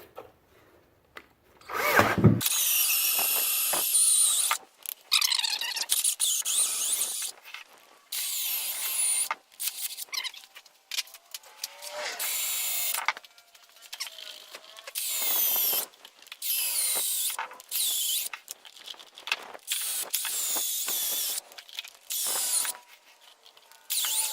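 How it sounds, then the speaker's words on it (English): A 2-inch hole saw drilling out the centres of car suspension bushings, in repeated bursts of high, grinding whine broken by short pauses, with a loud knock near the start. "going to use a 2-inch hole saw to drill the center of these bushings out"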